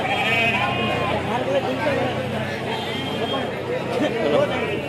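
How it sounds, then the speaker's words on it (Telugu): Large male goats bleat repeatedly at the Tuesday goat and sheep market in Kadiri, loud, wavering calls rising over a constant murmur of crowd chatter and people talking nearby. "ఒక పెద్ద సైజ్ మేక పోతులు అయితే ఉన్నాయండి"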